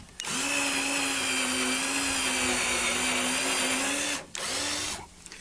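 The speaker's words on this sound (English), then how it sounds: "So we're going to drill a 17/16 diameter hole." A power drill boring a 17/16-inch hole for a half-inch bolt while building an easel: a loud, steady high whine that runs for about four seconds, stops abruptly, then restarts briefly and trails off.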